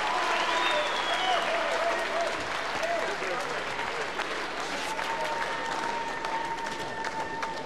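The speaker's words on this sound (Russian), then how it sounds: "а вот здесь в студии зааплодировали после боя" A studio audience on a Russian TV show claps after the Dolph Lundgren vs Oleg Taktarov fight, giving sustained, dense applause throughout with a voice faintly audible over it.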